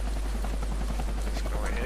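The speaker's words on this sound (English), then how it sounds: "That's the helicopter chasing my friends." Helicopter in the video game Deadlight chasing characters, a steady loud rotor thrum and engine whine that runs throughout under game effects and a voice.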